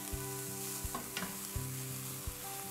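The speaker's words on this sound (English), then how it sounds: "we're going to start by cooking our pancetta bacon, and we're gonna get it nice and crispy" Pancetta bacon fries toward crispness with a soft, continuous sizzle. A steady tonal hum and a few faint, evenly spaced knocks sit underneath it.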